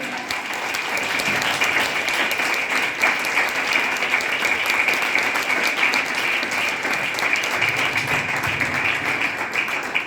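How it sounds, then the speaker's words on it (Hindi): Sustained audience applause at a motivational training seminar, a dense, even roar of many hands clapping that holds steady for the full length. "जोरदार होना चाहिए तालियां"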